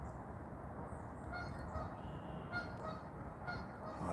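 Several faint, distant goose honks come in short bursts outdoors over a constant low rumble of background noise, with no voices.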